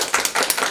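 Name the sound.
audience clapping at a school event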